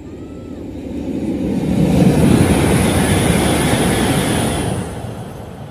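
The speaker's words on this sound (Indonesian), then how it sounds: "itu dia kereta api cepatnya dari arah Padalarang" High-speed train arriving from the Padalarang direction at Cisomang, West Java, heard as a broad rushing roar that swells to a peak midway and holds before easing off, with a faint high whine above it.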